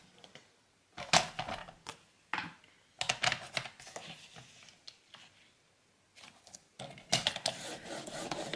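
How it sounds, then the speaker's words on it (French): Paper is creased and folded by hand for a scrapbooking album, bursts of crisp crinkling and rubbing separated by short quiet gaps, close and clear. "On va refaire un pli à 1 cm du bord."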